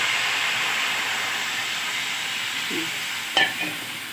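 Mango pieces for sweet mango pickle sizzle in a frying pan with a steady hiss, then a brief louder burst and clatter near the end as water goes in.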